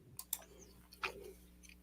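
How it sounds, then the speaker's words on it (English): Someone chewing a piece of pizza close to the mic, with a few short, sharp, wet bites and clicks spread across a quiet background. "And yes, I am chewing on a piece of pizza,"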